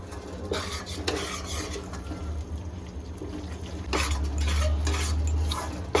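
Edible gum (dink) fries in ghee in a pan for laddoos. A steady, close crackling sizzle runs throughout, with light clinks of stirring, and it grows louder toward the end.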